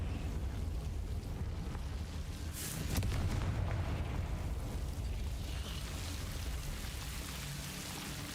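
An explosive Confringo spell from Hogwarts Legacy bursts with a sharp crack and rumble near the middle, set within a steady, noisy, hissing background resembling rain, the blast trailing off into that continuous wash.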